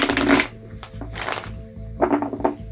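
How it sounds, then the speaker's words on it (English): A Druidcraft tarot deck being shuffled by hand in three rustling bursts, close and fairly loud, with brief quiet pauses between them and no talking. "We're going to give these a shuffle to kind of clear the deck."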